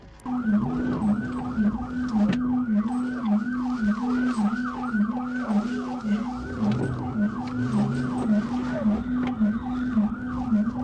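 A police car siren wails during a high-speed pursuit, heard from inside the cruiser. Its fast, repeating yelp cycles loud and close over engine and road noise, with brief radio chatter beneath.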